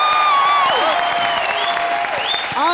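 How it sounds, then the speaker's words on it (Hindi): A studio audience at a live Indian comedy show claps loudly and continuously, a dense close wash of applause with scattered whistles and cheers rising through it. "फ्लाइंग जेट की टीम के लिए जोरदार तालियां हो जाएं।"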